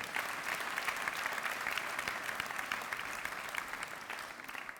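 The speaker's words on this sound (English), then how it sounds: "Let's give a round of applause." Steady applause from a crowd at a school inauguration, many hands clapping continuously at moderate volume for the whole stretch, with no voices standing out.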